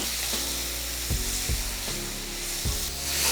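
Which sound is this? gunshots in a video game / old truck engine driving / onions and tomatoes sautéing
onions and tomatoes sautéing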